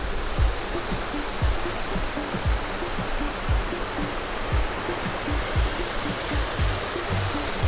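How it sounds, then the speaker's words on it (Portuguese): Cachoeira do Brunel, a waterfall in Paraná, Brazil, roars as a steady, dense broadband rush of falling water, close and continuous with no voices over it. "Cachoeira do Brunel."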